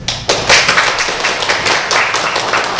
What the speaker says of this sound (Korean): 우리 박수 한번 쳐볼까요?